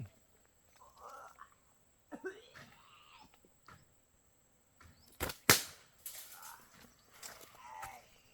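A gun fires a few sharp, loud shots in a tight cluster midway through, set among yelling and excited voices during a hunt for a possessing ghost.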